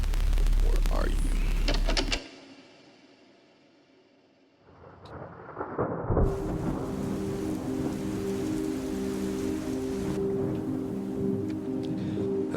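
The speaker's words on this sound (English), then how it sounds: "It's a stormy night." A stormy night brings a heavy rumble of thunder and a steady hiss of rain, with a sudden loud crack at the start, a brief quieter lull, then rain building back to a constant wash.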